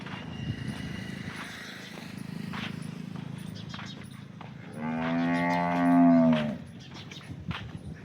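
A single deep, drawn-out moo from a local Banaskantha cow rises over a steady outdoor background, close by and fairly loud.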